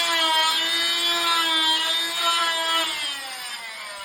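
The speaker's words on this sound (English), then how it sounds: "I just do a couple plunge cuts" A power saw makes plunge cuts into ICF foam wall block, giving a loud, sustained whine with steady harmonic tones that dips slightly in pitch toward the end, with no speech.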